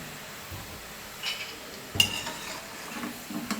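Peanuts fry in hot oil for masala peanuts, giving a quiet, steady sizzle with brief clinks and stirring scrapes of a utensil against the pan, heard alone at close range.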